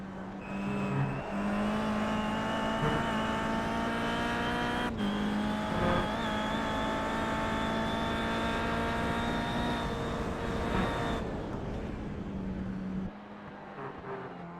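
Kia Cup race car at Donington Park heard from on board, its engine a steady loud drone with rich harmonics holding high revs through a flying lap, briefly dipping for shifts and easing off near the end.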